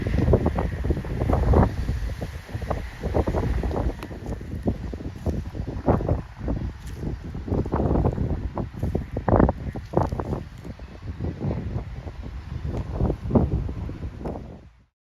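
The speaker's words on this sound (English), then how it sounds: "Very windy today." Strong, gusty wind buffets the microphone at a dock after a hurricane, with rough rumbling and scattered rustles and knocks, loud and continuous.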